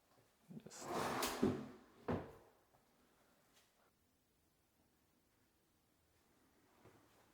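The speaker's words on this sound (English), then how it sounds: "A drawer here that I thought would be nice to have for bottles." A bathroom vanity drawer slides and knocks shut in a newly built house, giving a brief wooden rumble and a second thump, then near silence.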